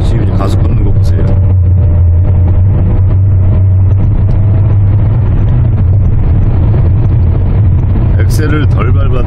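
A 2004 SsangYong Chairman sedan pulls away and gathers speed uphill, heard from inside as a loud, steady low engine drone with road rumble, while someone talks over it.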